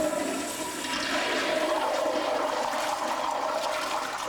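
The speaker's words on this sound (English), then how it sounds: "Many people use their toilets as garbage disposals, flushing any and everything down the drain" A household toilet flushes, a loud rushing gush of water that churns steadily for several seconds at close range with no speech over it.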